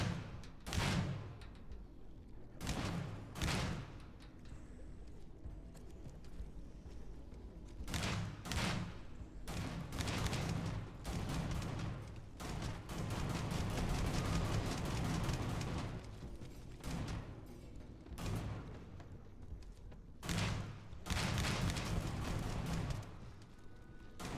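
Gunfire using gut buster rounds in the video game Starfield: repeated sharp, heavy shots with booming impacts, fired singly and in short clusters at irregular intervals over a low background rumble.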